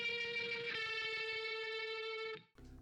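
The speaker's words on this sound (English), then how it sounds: "And rotary. This is the most important one. This is kind of like a vibrato going on." A distorted nu-metal guitar chord rings out through a rotary vibrato effect, a sustained, swirling wavering tone holding steady for over two seconds before cutting off, followed by a short, quieter note.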